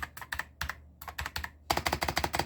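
Rapid keystrokes on an Onikuma G52 82-key mechanical keyboard, close and clear, coming in uneven bursts before breaking into a faster, steady run of clacks at the end.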